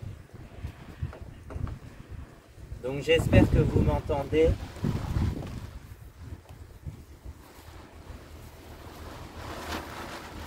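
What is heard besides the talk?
wind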